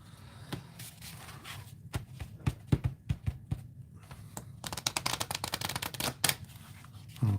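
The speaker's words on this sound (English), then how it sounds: "Okay, so I'm gonna shuffle for mine. And we just shuffle." A deck of oracle cards is shuffled by hand close up, with irregular riffling taps at first and then a rapid flurry of crisp card slaps.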